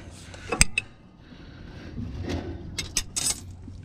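A wrench tightening a tie rod end on a Peterbilt truck, giving a few sharp metallic clanks and ratcheting clicks amid low mechanical scraping, close by.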